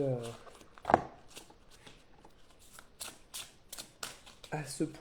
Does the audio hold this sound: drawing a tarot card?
yes